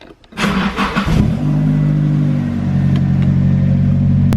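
A Nissan S13 engine starts with a short cranking burst, catches, and settles into a loud, steady idle close to the microphone.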